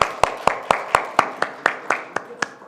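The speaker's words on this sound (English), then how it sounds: "I think that's deserving of applause." Slow, evenly spaced single claps ring out at a city council meeting, about eleven sharp hand claps in a steady rhythm, close and fairly loud, with no voices.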